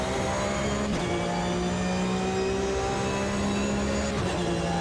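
Porsche 911 GT3 Cup race car in a racing simulator: a loud, continuous engine howl holding a high pitch, with quick gear-shift dips around the first and fourth seconds, and no talking.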